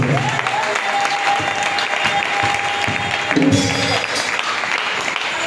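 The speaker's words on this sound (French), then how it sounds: "l'Assemblée acclame à leur honneur" An assembly applauding in honour of the foundation members at a choir gathering, with loud, sustained clapping from a large crowd filling the room at close range for the whole stretch.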